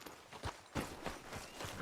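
Horse hooves clip-clopping at a steady walk in Red Dead Redemption, a fairly quiet rhythmic series of soft thuds over ambient background.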